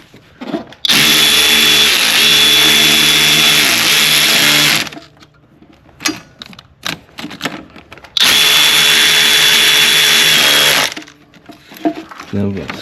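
Power tool driving a T30 Torx ignition coil bolt on a Mercedes E350 3.5L engine, two loud sustained whirring bursts of several seconds each with quieter clicks and handling noise between them.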